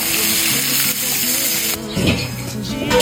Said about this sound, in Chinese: 把这个料给炒一下